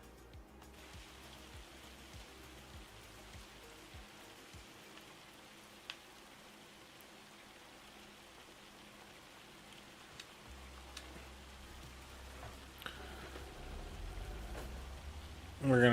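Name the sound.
hail falling in Farming Simulator 25 video game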